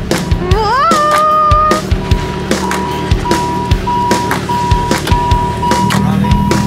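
A car drifting on ice during a winter driving experience gives a steady engine drone, with rising and falling whine tones and repeated soft thumps, close and fairly loud, with no talking.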